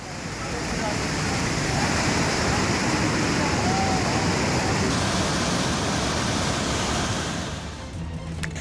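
Floodwater roars through an overflowing stream swollen by heavy rain, a steady, dense rushing wash that holds loud and unbroken throughout before easing slightly at the end.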